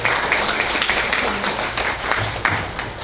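An audience at a political meeting in Los Angeles claps steadily, a dense, even applause that carries through the whole stretch at moderate loudness.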